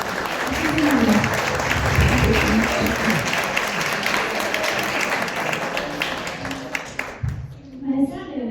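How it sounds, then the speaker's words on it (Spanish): Sustained applause from an audience at the close of a talk, steady and full for several seconds before tapering, with voices and chatter rising near the end. "cada uno de nosotros nos demos un fuerte aplauso por la conciencia en el trabajo que hacemos hoy"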